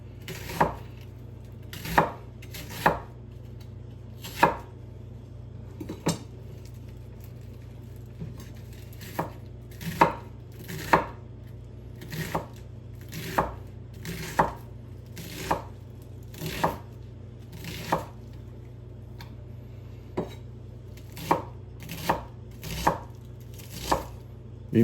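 Knife chopping a partial red onion on a board: sharp, evenly spaced single chops roughly every second over a low steady hum, close and fairly loud, with no voices.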